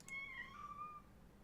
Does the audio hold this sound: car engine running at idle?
no